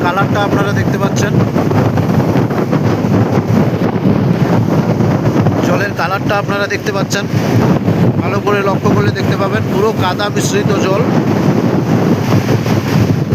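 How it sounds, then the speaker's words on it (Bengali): Strong wind buffets the microphone at Mohona sea beach, roaring loudly and continuously over muddy surf while someone talks through it. "প্রচণ্ড হাওয়া দিচ্ছে"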